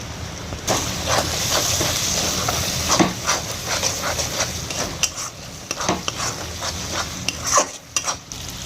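Chicken biryani masala with vinegar stirred in a pan, a loud sizzle punctuated by repeated scraping clacks of a spoon against the metal, close and busy throughout.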